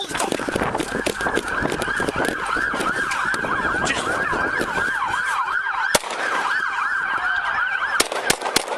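A police car siren wails loudly and steadily for several seconds in a rising and falling cycle, with traffic noise and a few sharp knocks underneath.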